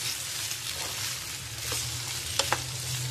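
Ginger and garlic fry in a pan over low flame with a soft, even sizzle, and two brief utensil clinks near the end.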